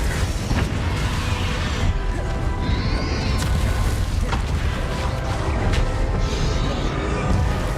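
A Confringo spell blast in Hogwarts Legacy: dense, loud battle noise with booming impacts, crashes and whooshes, layered continuously over game music and effects.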